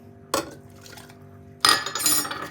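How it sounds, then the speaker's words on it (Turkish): Water is poured into a pot for matcha Turkish coffee: a sharp clink of metal and pot, then a louder splashing pour with ringing, close by and without speech. "Evet suyumu döküyorum."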